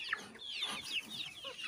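A Muscovy duck makes soft, raspy clucking and murmuring calls, several short notes in quick succession, close by and fairly quiet.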